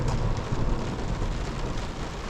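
Steady heavy rain pours down during a severe thunderstorm, a dense continuous hiss and patter with deep low rumble underneath, loud and close throughout with no voices.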